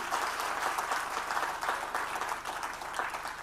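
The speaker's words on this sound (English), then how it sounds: "Can we give a big round of applause to Lester?" Steady applause from a business-talk audience fills the room, a dense even wash of many hands clapping at moderate loudness without pause.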